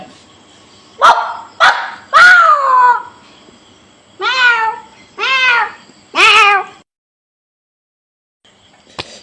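A dog barks in sharp bursts, then a cat meows several times in drawn-out wails; the animals alternate loudly and close by, with a short silence at the end.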